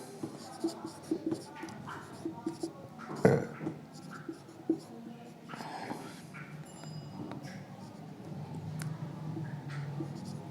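Pen scratching out notes in a quiet room, with short irregular strokes and taps that come close and clear for several seconds, followed by softer rustling.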